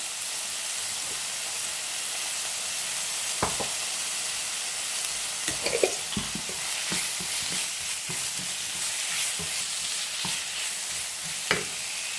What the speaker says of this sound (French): maintenant que le poivron est bien cuit, j'introduis le poulet